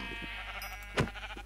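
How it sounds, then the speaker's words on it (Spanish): A single sheep bleat from the Minecraft video game, short and fairly clear, rising briefly over a quiet background with faint game sounds. "Voy a matar a esta oveja."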